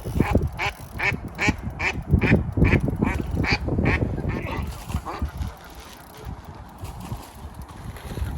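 A bird caught on a fishing line near a winter carp lake quacks and squawks in rapid, loud repeated calls, thrashing, then quieting into background noise.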